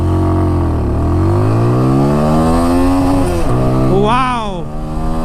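A 2021 TVS Apache RTR 200 4V motorcycle accelerates hard in sport mode, its engine note climbing steadily through the revs, dropping briefly at a gear change, then rising again, loud and close throughout.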